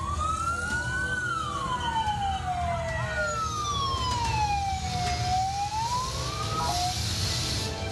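A wailing siren sweeps up and down loudly over steady traffic rumble, a fire engine passing nearby with a continuous rising and falling tone, responding to a residential fire in Tambora.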